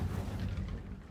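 Casting of the Incendio fire spell in Hogwarts Legacy, a short, low whooshing burst that fades quickly.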